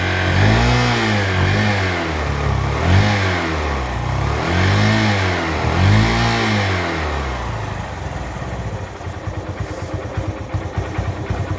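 A motorcycle engine revs in repeated swells, rising and falling several times in a steady rhythm, then settles into a rough, choppy idle close by.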